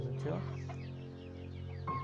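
A Sultan chicken gives a few short clucks at the start and again at the end of a brief moment, fairly close, with soft background murmur between.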